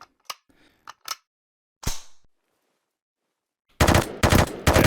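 Bursts of PP91 submachine gun fire in the VR game Into the Radius: a few isolated sharp shots early, then a loud, rapid automatic burst at the end.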